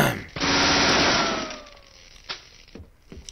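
Bursts of rapid gunfire shooting at mannequins in Deadly Premonition, a loud sustained volley up front that fades into a tail, followed by a few scattered single shots and knocks.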